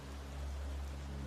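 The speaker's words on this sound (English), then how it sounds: "The sound of flowing water grows nearer with every step, mingling with the steady rain." Steady rain falls with a constant, even hiss at low volume, broadband and unbroken, with no voices.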